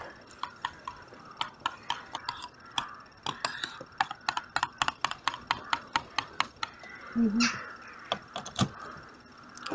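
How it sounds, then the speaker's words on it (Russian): A knife chops garlic finely on a board in a rapid, uneven run of crisp close taps, while a small dog whimpers and yips faintly in the background. "Также в наш соус рубим мелко-мелко чесночок."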